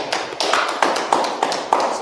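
A few people in a class clapping in rhythm, sharp distinct claps arriving roughly every third of a second, fairly close and clear with no one talking over them.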